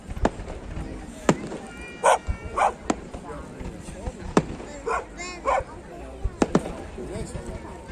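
A dog gives several short whimpering barks and yelps amid sharp, loud fireworks bangs at the San Roque festival display in Vilagarcía de Arousa, with faint voices in the background.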